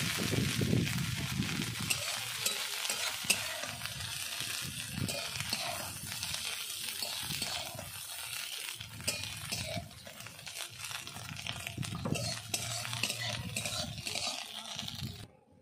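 Banana flower koftas sizzle steadily in hot oil in a pan while a utensil scrapes and clinks as they are lifted out, a busy close crackle broken by metallic taps throughout.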